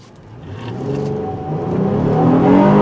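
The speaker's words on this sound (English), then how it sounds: "Still, acceleration's pretty decent." A 2019 Honda Passport AWD Elite SUV engine accelerates, its roar rising in pitch and growing louder over a few seconds, close and without speech.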